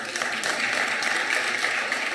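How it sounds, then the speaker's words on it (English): Members of South Africa's National Council of Provinces clapping in a parliamentary chamber, a dense, even patter of applause that holds steady for a couple of seconds. "Don't mind to clap hands."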